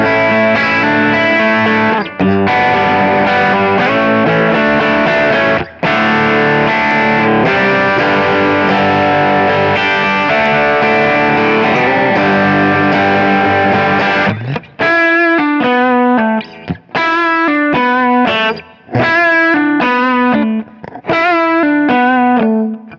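An electric guitar fitted with Porter Portertron pickups plays through heavy distortion. Long sustained chords ring out first, then a run of choppy, stop-start riffs follows, loud and close with no talking.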